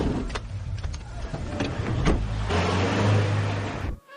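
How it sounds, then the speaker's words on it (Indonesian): A car in a film scene rushes past close by and then brakes to a sudden stop, its road noise and engine swelling over a dense soundtrack before cutting off abruptly. "hampir saja ia ditabrak oleh sebuah mobil yang melintas. Mobil itu pun tiba-tiba berhenti"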